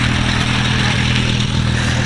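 A 1959 John Deere 435 tractor fitted with a Detroit two-cylinder diesel engine runs at a farm show, producing a loud, steady, close-up engine drone with continuous low rumble and clatter throughout.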